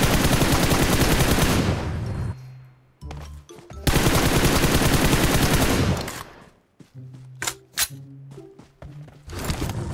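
Gunfire from the video game PUBG Mobile comes in two long, loud automatic bursts, then a quieter stretch of scattered single shots and clicks, and a third burst breaks out at the very end.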